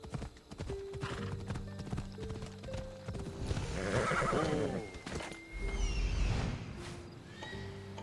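Horse hooves clip-clop in a steady rhythm in Assassin's Creed Odyssey, close and clear, with a loud neigh partway through and the gait continuing afterward.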